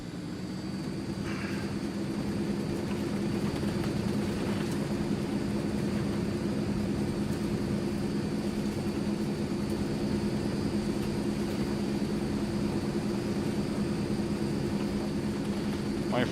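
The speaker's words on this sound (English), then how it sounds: "My first aborted takeoff." A Transall C160 cargo plane in Microsoft Flight Simulator drones steadily through an aborted takeoff, its engines a constant, even hum with no change in pitch from start to finish.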